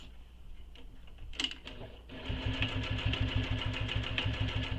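A sewing machine stitches back and forth across the folded hem of a waist pack: a few slow, separate stitches and a pause, then a fast, steady whirring run that stays close and fairly loud.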